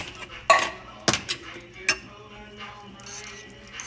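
A spoon stirs corn and simmered tomatoes in a metal pot, giving a few sharp clinks and scrapes against the sides, then quieter stirring.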